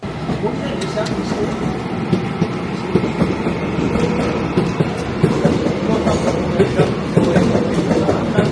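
A train rolls along the railway line just outside an apartment block, a steady loud rumble with faint rhythmic rail clatter lasting throughout, with voices heard alongside it.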